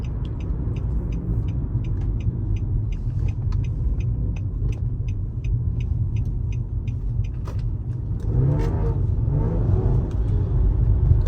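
A damaged car engine idles with a raspy, rough rumble, steady and close with a faint ticking through it, rising briefly in revs near the end with no one talking.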